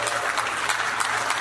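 Applause from an audience at a Rotary district conference in Diani, steady dense clapping for about a second and a half with faint room noise beneath it.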